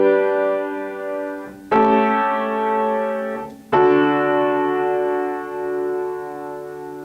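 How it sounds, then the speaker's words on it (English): A chord progression with a 5-7 suspension resolving to 1 and no non-chord tones. Three sustained chords follow one another, each entering with a fresh attack and ringing out steadily with no speech. "I'm going to change it to a 5-7 this time, and then resolving it to a 1 without any non-chord tones"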